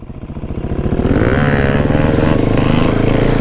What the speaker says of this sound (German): Oh Junge, er hat geschaltet im Wheelie